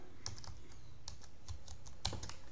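Quick, uneven keystrokes on a computer keyboard as a command is typed in at a Linux terminal, close and fairly quiet, with no voices.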